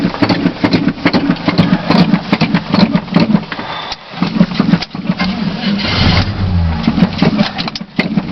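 Engine cold start on a vehicle with the door closed, a loud rough idle running steadily throughout with surges in revs and a brief dip midway, close up and with no talk.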